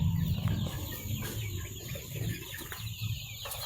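Chickens near a laying nest made from a water-gallon container cluck softly and intermittently against a busy outdoor rural background with a steady high insect-like hum.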